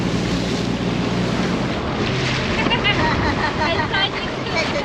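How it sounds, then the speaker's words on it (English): Strong wind buffets the microphone on an open boat travelling between San Jose and Grace Island in the Philippines, a loud constant rumbling roar with water and engine noise mixed in, and a voice faintly talking underneath. "I doubt you can hear me now, it's a bit blowy."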